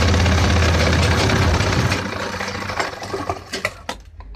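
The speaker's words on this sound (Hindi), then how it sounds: "इसके ऊपर हम रखेंगे जिप को और सिलाई लगा देंगे।" A sewing machine stitching a zip onto the fly of a pant runs as a loud, dense motor whir that fills the opening, then eases into a lighter, uneven rattle with a few sharp ticks toward the end.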